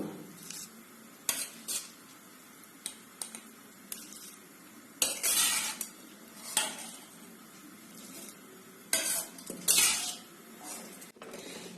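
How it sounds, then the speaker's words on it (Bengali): Rice tipped into a hot pot of white oil with salt and stirred, with quiet sizzling under repeated scrapes and light clinks of the utensil against the metal. "গরম হয়ে গেছে, এখন আমি চালটা দিয়ে দেব"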